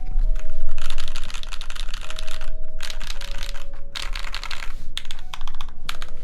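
Fast close typing on a mechanical keyboard with silk switches gives dense bursts of soft clacks, broken by short pauses, over faint background music.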